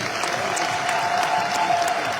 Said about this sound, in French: vos applaudissements pour la représentation du ballet national